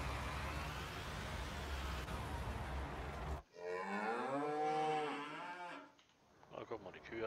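Cows on a farm in Farming Simulator 19, on the Nordfriesische Marsch map: a long, loud, close moo follows steady engine-like noise, with a second softer moo trailing at the end.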